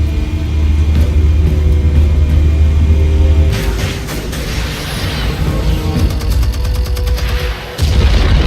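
Explosives going off in Batman: The Telltale Series, a loud sustained blast with deep rumbling followed by crackling debris and sharp bursts, dense and continuous throughout.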